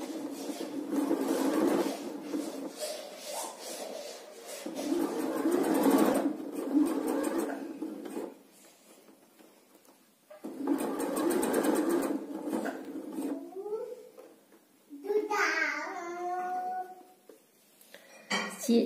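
A sewing machine stitches fabric in steady whirring runs, stopping and restarting several times with quieter pauses, while someone speaks French between the bursts.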